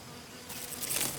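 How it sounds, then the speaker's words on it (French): Honeybees foraging near a hive buzz close by with a soft hum that swells louder toward the end. "Une abeille butineuse qui sort de sa ruche remplit plusieurs fonctions pour sa colonie"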